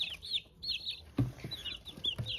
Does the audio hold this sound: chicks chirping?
yes